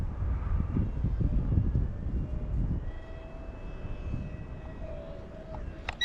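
A Dark Star EDF jet RC airplane flies overhead with a steady whooshing ducted-fan whine, moderately near, mixed with gusty wind rumble on the microphone and no talk.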